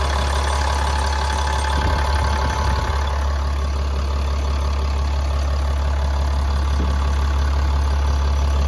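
A 2018 Dodge Ram 5500 HD 4x4 truck with a 6.7 liter Cummins diesel idles steadily, a loud low rumbling drone with a faint metallic rattle from the transmission area, continuous and close.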